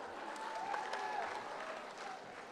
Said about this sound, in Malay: Beri tepukan kepada sahabat-sahabat.